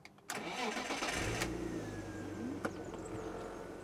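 A BMW E36 328i straight-six cranks briefly and fires up nearby, then settles into a smooth, steady idle with a small blip partway through.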